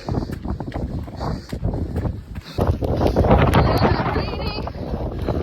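Gusty wind buffets the microphone on a coastal trail near Newquay, Fistral and Crantock, with loud, rumbling bursts rising and falling throughout, with faint voices underneath.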